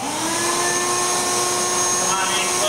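A shop vac switched on to power a homemade air column seed cleaner for golden flax gives a loud, steady whine and rushing roar that holds throughout, with a faint high tone above it.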